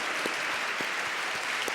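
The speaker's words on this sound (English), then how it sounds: "Give yourself a round of applause." A theatre audience at a live debate event applauds, a dense, even wash of many hands clapping at once, sustained and fairly loud with no pause across the short stretch.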